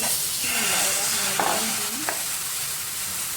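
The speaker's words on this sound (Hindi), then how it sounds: "पैन को मैंने गरम कर लिया है, और अब मैं इसमें ये इस तरह का एक डीप चम्मच लेके उससे डालूंगी" Thin liquid flour dough for soft roti is poured from a deep spoon into a hot pan, giving a steady hiss with stronger sizzle bursts as more batter lands, with no talking.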